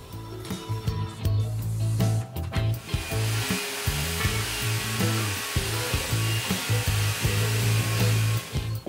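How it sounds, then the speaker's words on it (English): A power tool whines steadily while scrubbing corrosion off a steel interface plate before welding, as part of homemade pallet forks for a Kubota B2261 compact tractor. The whine is close and loud, with a pulsing drone and rough grinding bursts. "I will clean it out so we have a proper welding by removing all the corrosion"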